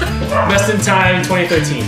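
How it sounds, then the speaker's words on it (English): A dog gives a few loud, close, yelping barks tangled with people talking, ending in a whimpering tone. "That's a dog barking."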